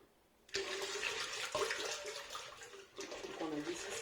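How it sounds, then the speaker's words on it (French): Cold milk pours into a bowl of flour and baking powder for a pancake batter, a steady close splashing gurgle that starts abruptly and runs with slight changes in flow, briefly easing before picking up again. "on va venir ajouter le lait"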